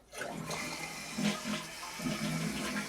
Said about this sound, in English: Flap comes up. Flushes.